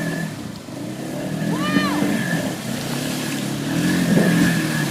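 A Polaris off-road vehicle engine revving during a Verde River crossing, a mid-distance drone that swells twice, with rushing water and people talking over it.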